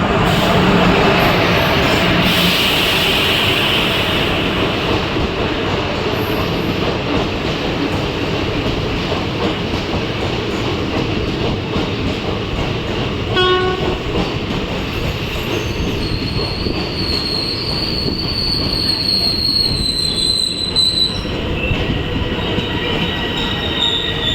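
Train 16605, the Eranad Express, rolls close by with a heavy rumble and clatter of wheels as it arrives at Aluva station, and high metallic squeals rise as it slows near the end.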